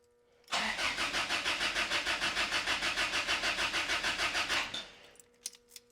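A Toyota-swapped Ram 50 engine cranks over steadily for about four seconds without firing, the starter's rhythmic chug loud and close before it cuts off, leaving a few faint clicks.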